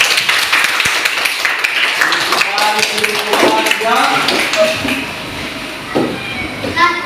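Schoolchildren in a classroom clap for a student group, a close, lively patter of small hands mixed with chattering kids' voices throughout.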